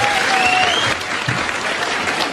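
Steady applause from an audience at a Korean political talk event, a dense clatter of clapping that holds throughout at close, loud level with faint crowd murmur.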